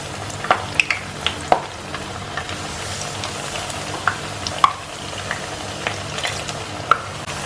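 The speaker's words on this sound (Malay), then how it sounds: "Okey, kita goreng terung." Eggplant frying in hot oil gives a steady sizzle, broken by sharp pops and crackles at irregular moments as a utensil stirs the pieces.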